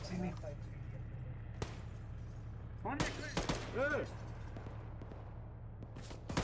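Sharp gunshots in the video game ArmA 3 crack in scattered bursts over a low background hum, with voices speaking between the shots.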